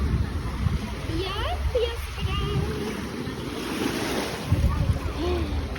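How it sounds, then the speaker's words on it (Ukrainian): Waves wash onto the shore under gusty wind buffeting the microphone, with faint voices mixed into the surf. "Йдемо в море ножки помочимо."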